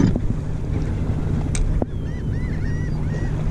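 A boat motor runs on a bay as a constant low rumble buffeted by wind noise, with a brief dip midway and some higher honking, whistle-like tones over it.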